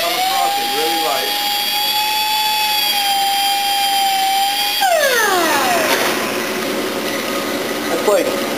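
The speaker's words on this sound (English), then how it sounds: "Just take the grinder." An angle grinder scuffing a cross-drilled brake rotor, a loud whining tone that holds steady, then drops in pitch as the disc bites, with harsh grinding rasp; a voice talks over it.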